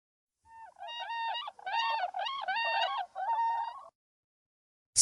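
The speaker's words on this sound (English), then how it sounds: "Swan." A swan calls in a series of four honking, nasal notes with harmonics, each a bit under a second, set against silence.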